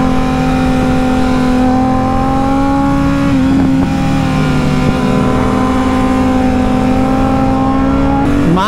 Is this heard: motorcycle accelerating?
yes